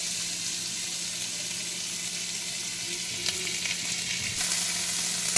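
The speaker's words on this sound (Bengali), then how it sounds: "পেঁয়াজটা দিয়ে একটু নাড়াচাড়া করবো" Steady sizzling of onions frying in hot oil, with a few scraping stirs near the end. No one speaks.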